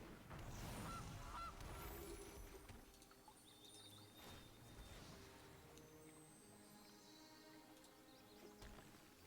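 A goose honks from the Gilded Goose card in the MTG Arena digital card game, with a few loud honks near the start over layered game effects and a low background bed.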